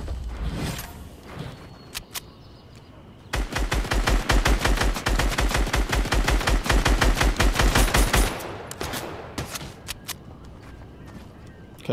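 Rapid automatic gunfire from a gold SCAR rifle in Fortnite, a dense, loud burst of evenly spaced shots lasting about five seconds, with scattered single shots and game sounds before and after.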